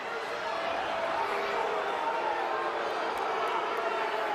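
Home crowd at an Iowa vs Michigan college wrestling dual roars in disapproval of the referee's call, a steady, dense wash of many voices that holds throughout.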